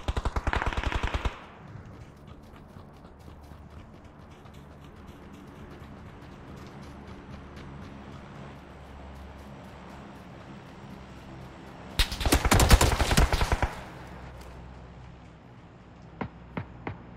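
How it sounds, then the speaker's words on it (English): Bursts of automatic gunfire from a squad match of the video game PUBG on the Sanhok map, one short volley at the start and a longer loud one later, with a low quiet background in between. "They're being shot at."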